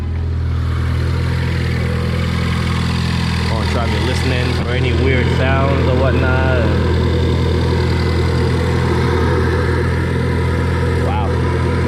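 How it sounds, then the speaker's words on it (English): A Ford Focus ST engine idles steadily with a constant drone and audible intake suction hiss, heard close up while someone talks over it. "Wow, that's a lot of suction noise from the intake."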